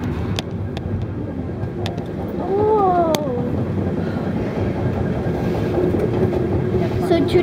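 A Metra commuter train rolls along the Union Pacific West Line with a steady rumble and rail clatter, heard from inside the cab car, with a brief squeal partway through.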